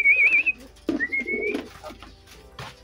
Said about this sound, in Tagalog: yung ibon natin mukhang laspag na laspag siya. Ikaw ba naman ang lumipad na lagpas bagyo?